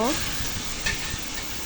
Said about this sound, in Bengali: সেইটা দিয়ে আমি আরও দুই মিনিট চালটা ভালোভাবে ভেজে নিব